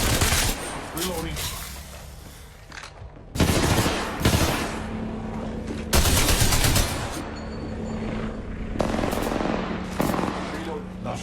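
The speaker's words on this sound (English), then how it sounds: "I'm getting shot." Rapid bursts of automatic gunfire in Apex Legends, loud and near, come in several volleys separated by short lulls, with heavy low-end thumps beneath the shots and steady game ambience in between.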